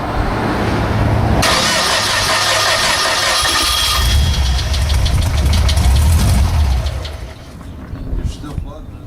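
A small engine running on gaseous fuel cranks and catches, then sputters roughly and knocks at a close, loud level before dying down, with people talking over it.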